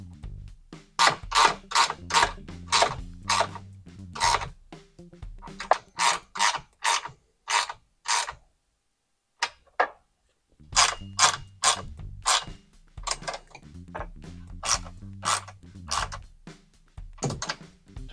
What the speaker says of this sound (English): Using the same tools, tighten your upper brackets.